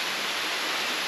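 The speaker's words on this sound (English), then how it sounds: "To think there's such a beautiful waterfall here that comes down." Sigua Falls, a waterfall on Guam, pours in a steady, dense broadband rush, close and constant with no voices over it.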